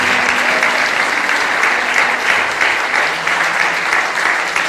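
Congregation applauding during a church sermon, loud continuous clapping from many people filling the space with little variation, close and uninterrupted.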